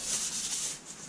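Light sanding of primer overspray with 800-grit paper on the repaired trunk lid of a Renault Mégane convertible, a close, steady soft hiss of rubbing strokes with no pauses.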